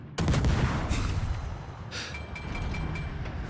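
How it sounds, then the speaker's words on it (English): Ship guns of the destroyer Hayate fire in the naval game World of Warships, a dense rumbling burst of cannon blasts followed by sustained booming battle noise, loud and close. "The guns are pretty good on this ship."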